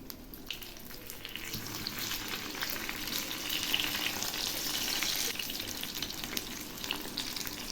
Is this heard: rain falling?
no